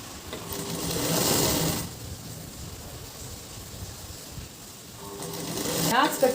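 A sewing machine stitches fabric for blouse fitting in short bursts, loud whirring runs at the start and near the end with a quieter hum and faint rustling in between.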